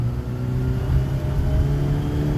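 A Fiat X1/9 engine pulls hard while driving, a loud steady drone climbing toward about 4,000 rpm with a rough, buzzy tone under constant road rumble and no voices.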